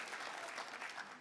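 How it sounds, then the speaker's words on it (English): A short round of applause from the audience at a Walrus Talks event in Fredericton, honouring the speaker's father, with quiet, distant clapping lasting about a second. "So a quick round of applause."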